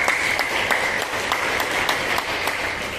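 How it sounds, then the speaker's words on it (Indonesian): A church congregation applauds in praise of God, a dense, steady wash of clapping with a few sharper claps standing out, sustained at even loudness throughout. "Tepuk tangan buat Tuhan."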